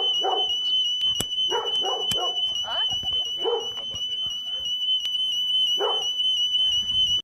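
Several dogs bark in short bursts between two fences around a fortified house, with a constant high electronic alarm tone sounding throughout.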